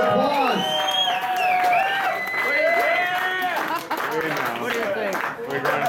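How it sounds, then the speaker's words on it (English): Crowd cheering and whooping with applause at awards for a full natural beard competition in Scottsdale, Arizona, loud and sustained, with voices shouting and calling out over the clapping. "Give him a big round of applause."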